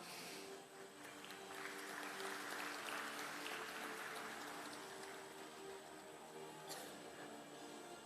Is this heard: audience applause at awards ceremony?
yes